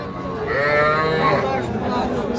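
Young Nepali Gir calf, about four months old, at a cattle market, mooing in a long, loud, wavering bellow close by with no one speaking.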